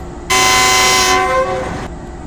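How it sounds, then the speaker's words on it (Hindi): Pakistan Railways Green Line train departing Margalla station in Islamabad sounds a loud, sustained horn blast of about a second and a half, with rumbling rail noise continuing underneath before and after. "ट्रेन की रवानगी का वक़्त हो गया है और 6 डाउन ग्रीन लाइन की लीड पर है"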